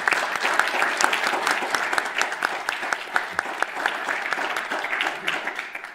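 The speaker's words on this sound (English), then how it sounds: "Can I ask everybody in giving Sergey a round of applause?" A steady round of applause from a crowd, dense clapping sustained for the whole stretch with no voices on top.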